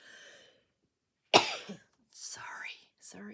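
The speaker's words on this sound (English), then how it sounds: "I think I'm going to sneeze." A sharp, forceful sneeze bursts out after a pause, followed by faint whispery voice sounds and breathing.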